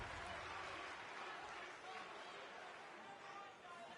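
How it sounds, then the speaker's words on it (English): Wrestling arena crowd in the NXT video game cheers and roars steadily and loudly throughout, a dense wash of voices and applause with no single speaker standing out. "Listen to this crowd, guys. They're fired up."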